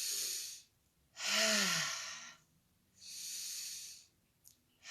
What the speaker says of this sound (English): Breathing in on the way up.